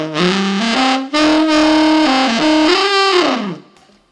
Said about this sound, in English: The other one is rolling your tongue in the top of your mouth.